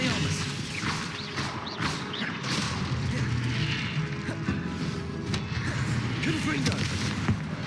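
Repeated Confringo blasting spell explosions in Hogwarts Legacy, a loud, busy stream of booms, crashes and cracking impacts over constant battle noise, with faint voices mixed in.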